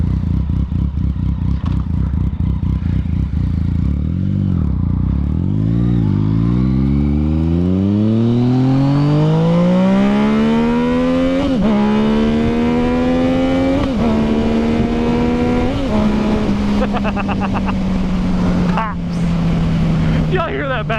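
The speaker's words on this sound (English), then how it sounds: "Y'all hear that backfire? I hope the camera picked up that backfire." Yamaha FZ09 motorcycle engine revving hard and loud, climbing in pitch over several seconds and then holding at high revs with a few sharp pops and cracks of backfire breaking through the roar.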